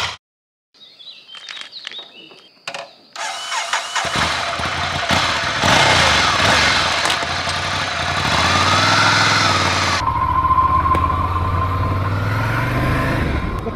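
Ducati motorcycle starting up and pulling away for a lap, with early mechanical clatter giving way to a loud, sustained engine roar and wind rush that shifts pitch as it accelerates.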